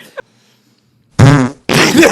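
A short fart followed by a second, rougher blast, loud and close, after a brief vocal sound and a pause of silence.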